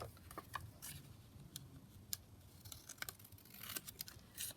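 Paper ephemera cut in half with scissors at a crafting table, a series of short, crisp snips and rustles, some close and sharp, spread irregularly over a few seconds with no talking.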